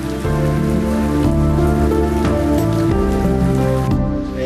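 Steady rain falls in the Amazon region during the wet season, a continuous hiss of drops on surfaces running throughout. Sustained tonal music plays over it.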